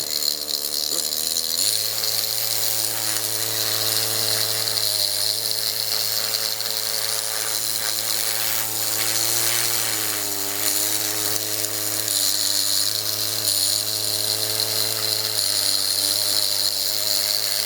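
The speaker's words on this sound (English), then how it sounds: "the big super jack, which blows lots of air, for speed drying" A loud, high-pitched motorized whine of an air blower speed dryer running continuously while drying a fossil concretion, with slight shifts in pitch as it changes speed.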